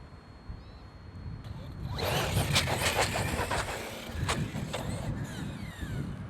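Radio control car running downhill while holding a wheelie: a rising high whine of its electric motor and tyres on the ground, loud and near, with sharp clicks and scrapes as it goes.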